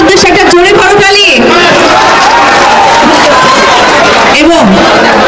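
A large outdoor crowd at a political gathering in Dhaka roars and cheers loudly and continuously, a dense wall of voices with someone speaking over a loudspeaker at the start and the end.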